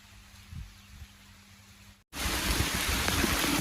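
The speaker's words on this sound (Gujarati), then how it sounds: "ઝરમર ઝરમર કપાહમાં વરસાદ પડે છે" Soft background hiss that turns into a steady, dense wash of drizzling rain falling on a cotton field about halfway through, constant and fairly close, with no voices.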